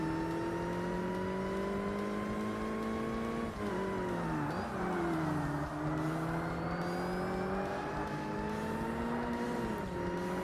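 A race car engine in the video game Forza Motorsport drones steadily at high revs, pitch dipping with gear changes and climbing again, loud and continuous with no talking.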